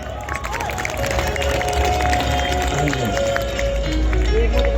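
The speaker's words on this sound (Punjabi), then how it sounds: "ਇੱਕ ਤਾੜੀ ਆਪਣੇ ਵਾਸਤੇ ਲਾ ਦਿਓ ਜ਼ੋਰ ਦਾ" A crowd at a farmers' protest gathering cheers and claps loudly. The dense, sustained roar of applause fills the whole stretch, with voices mixed in.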